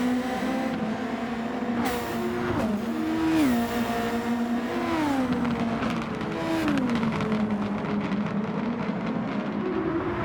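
Super Formula race cars racing in the video game Gran Turismo 7, high-pitched engines whining continuously and rising and dropping through gear shifts, several cars loud and close throughout with no pauses.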